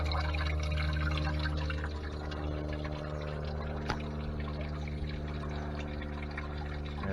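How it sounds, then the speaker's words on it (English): Coolant drains from a Peterbilt 379 truck engine in a soft, continuous pouring trickle with occasional drips, quiet and steady beneath a low mechanical hum. "so just drain the coolant out"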